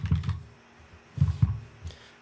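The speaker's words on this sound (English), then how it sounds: "It's a very loud keyboard." Keys on a very loud computer keyboard clack in two short bursts of typing separated by a pause, close and sharp, with a lone stray click near the end.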